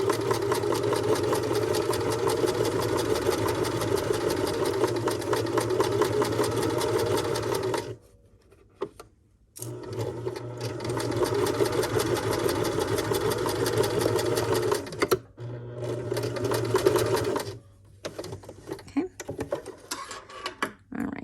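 Domestic sewing machine backstitching to finish a French seam, running in steady buzzing bursts with two short pauses where the needle stops before the motor whirs again.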